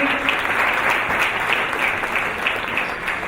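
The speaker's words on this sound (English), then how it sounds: "Can she get one more round of applause?" Dense, steady applause from an awards-ceremony audience, loud and continuous for a few seconds with no talk over it.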